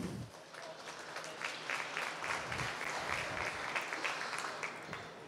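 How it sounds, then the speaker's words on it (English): A crowd applauds steadily for several seconds at the 2012 Wisconsin Championship Show dairy cow judging, a dense patter of clapping at moderate distance with no talking over it. "I'd like for everybody to give them a round of applause."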